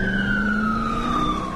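An emergency vehicle siren wails while the vehicle drives to a call in San Francisco, a steady gliding tone sounding close over road and engine noise.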